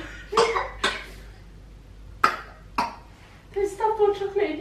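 Several short, sharp coughs from a child in bursts, close by, with a voice speaking briefly near the end.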